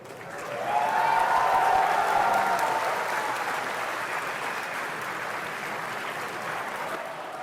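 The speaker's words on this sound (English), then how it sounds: "The crowd went more wild over this than they did the mention of Smash Bros." A live crowd at Nintendo's Revolution console presentation erupts in cheering and applause for the Virtual Console reveal, swelling within the first second and holding a dense, loud roar with shouts throughout.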